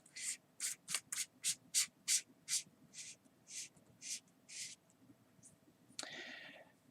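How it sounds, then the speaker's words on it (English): Tail cap of an Olight Freyr flashlight screwed back on: a quick run of about a dozen soft, scratchy thread rasps in steady rhythm, then a louder rubbing click at the end, close and fairly quiet. "screw the tail cap back on"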